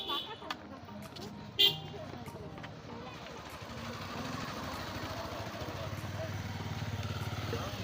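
A motorcycle engine rumbles faintly on a hill road at Sajek Valley, idling and then growing a little louder under nearby voices.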